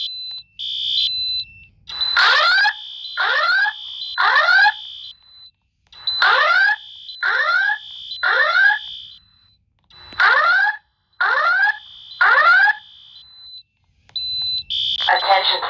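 School fire alarm repeating in bursts: a steady high tone followed by rapid whooping horn pulses, cycling several times over about sixteen seconds, loud and close with brief gaps of silence between groups.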